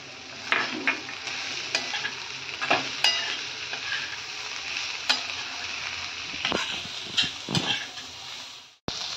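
Mixed vegetables with a little spring onion sizzle in a pan, stirred so that scraping clicks and hiss swells arrive in irregular bursts over a steady fry, with no voices.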